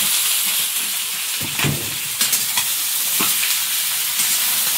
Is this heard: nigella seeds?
yes